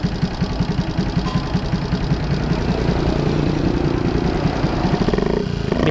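A Raider J115 Fi motorcycle engine with a 57mm bore idles close by in a steady, rapid mechanical throb with light clatter and slight vibration, continuous throughout.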